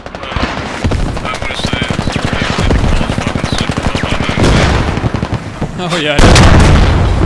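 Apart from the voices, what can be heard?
gunfire and explosion from video game Squad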